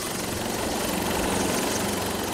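Helicopter noise, steady and continuous, carrying a crew home from a worksite after a river flood cut off the route. It is a constant loud rotor and engine roar with no talk.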